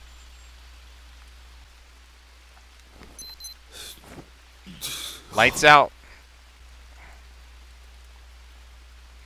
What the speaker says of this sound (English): Come on, rain, wash me off.